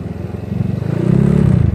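GY6 scooter engine revving as the handlebar throttle is tested, a close, loud, pulsing motor note rising steadily in pitch over under two seconds.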